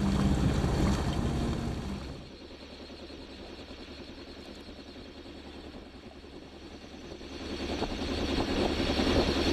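A sailboat surfing in on dangerous waves: steady rushing water and hull wash under heavy wind buffeting on the microphone, louder at the start and end, with no talking.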